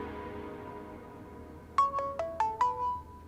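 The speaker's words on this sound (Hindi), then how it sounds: "अब किसका फोन आ गया?" Mobile phone ringtone in a drama scene, a short run of five bright chiming notes ringing out close over a quiet room.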